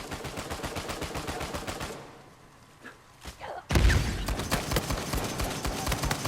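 Rifle fire in the multiplayer game Uncharted 4, a rapid run of loud, sharp shots that drops out briefly before a heavy thump and another dense burst of repeated gunfire.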